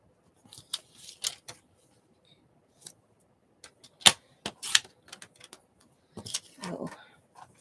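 Scissors snip a picture out of a magazine in crisp, irregular clicks and crunches, close and fairly quiet, with a longer rustling cut of paper near the end.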